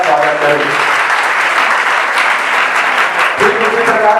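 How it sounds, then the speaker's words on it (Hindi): Students applauding loudly in a college hall to welcome a guest, steady dense clapping filling the whole moment, with faint voices underneath. "मैं अपने छात्र छात्राओं से अपील करता हूं कि जोरदार ताली से इनका स्वागत करें।"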